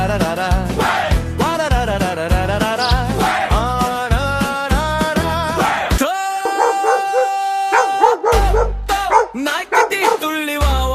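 A puppy barks in a rapid run of bright, yelping barks, loud and close, set within a children's rhyme, with a sustained musical tone and a few more barks and whimpers.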